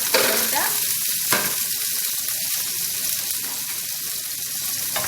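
A whole sliced onion fries in butter with a busy sizzle, and a utensil stirring it scrapes now and then. The frying stays near and steady throughout, with a sharper scrape early on.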